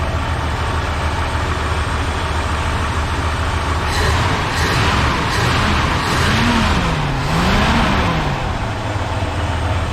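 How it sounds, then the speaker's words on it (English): A Ford F-150 pickup truck engine idles steadily with its parking brake set, a continuous low rumble holding throughout, with a faint wavering tone rising and falling partway through. "There she is, idling."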